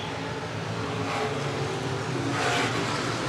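Stock cars at Clay County Speedway roar through turns 3 and 4 on the final lap, a steady, loud engine drone with a swelling pass late in the clip.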